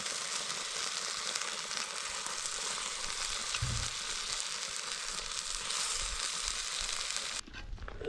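Broth sizzles and bubbles steadily in a pan of morels as it is basted and thickens toward a gravy, a dense, close, continuous frying hiss with a brief low knock partway through and a quieter tail at the end.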